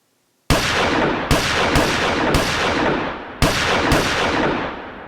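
A pistol fires six sharp, loud shots in an Ed Wood film, irregularly spaced with each crack trailing into a long echoing decay.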